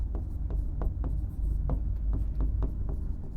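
A marker or chalk scratches on a board in a lecture room, with short, regular strokes close by and a faint background hum, and no talking.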